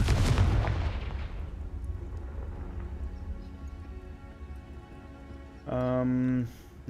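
A Confringo blast spell explodes in the Hogwarts Legacy video game with a loud booming burst at the start that decays into a long rumbling tail, followed later by a brief tonal game effect, with no speech over it.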